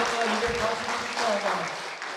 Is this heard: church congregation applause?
yes